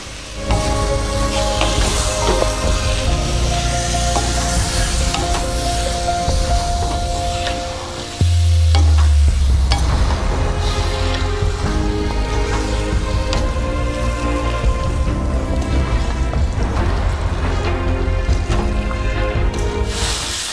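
Marinated chicken fries in a cooked-down spice paste for Bengali chicken kosha, a loud, continuous sizzle with stirring and scraping in the pan, a brief louder burst partway through as the meat is moved.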